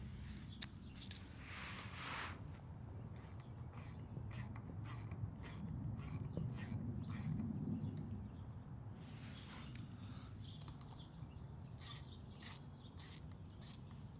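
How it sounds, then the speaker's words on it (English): A bolt turns into a freshly installed Heli-Coil thread insert in a motorcycle cylinder head, giving a steady run of close, quiet metallic ratcheting and rubbing clicks against a low background hum. "So now I can test to ensure that I can screw this bolt down."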